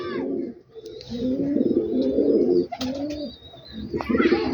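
Male Rawalpindi pigeons coo loudly and close up, a run of throaty, rolling calls with brief pauses between them.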